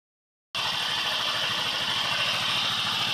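A CVT scooter engine starts up after a brief silence and settles into a loud, steady idle with a rapid rhythmic putter and mechanical rattle, close by and alone.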